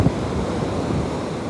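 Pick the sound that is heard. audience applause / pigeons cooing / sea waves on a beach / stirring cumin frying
sea waves on a beach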